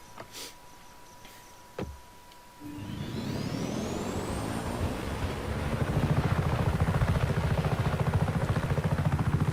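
A helicopter in the video game Just Cause 3 starts up after a few clicks and a thump, its engine whine climbing and the rotor roar building into a loud, steady drone.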